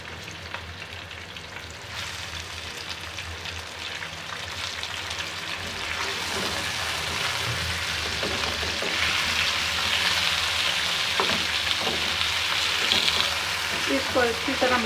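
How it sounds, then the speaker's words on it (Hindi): Chicken pieces fry with browned onions in a pan, a dense sizzle that swells louder and brighter partway through, with crackling spatters and stirring scrapes near the end. "चिकन को प्याज में थोड़ा सा फ्राई करूंगी 2-3 से 4 मिनट तक"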